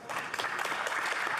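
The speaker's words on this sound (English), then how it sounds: "Colleagues, please join me in applauding this great Canadian" Members of the House of Commons applaud in the chamber, a brief burst of dense clapping that begins abruptly and holds steady at moderate loudness.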